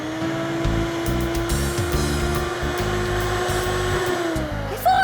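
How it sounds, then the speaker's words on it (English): A Hoover vacuum cleaner runs continuously with a steady droning motor hum and airy whine. The noise holds fairly even and close throughout. "The Hoover won't run itself."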